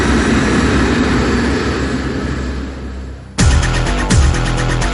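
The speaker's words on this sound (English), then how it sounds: "But Captain Van Zanten accelerates down the airstrip" A KLM jumbo jet accelerating down a runway, with a loud, continuous roar of engines that dips slightly before giving way to a harsher, pulsing rumble.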